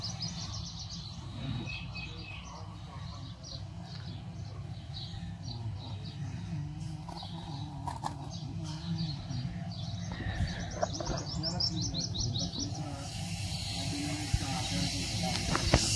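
Small birds chirp and tweet steadily close by while male and female birds are handled by hand, with people talking over the chirping throughout.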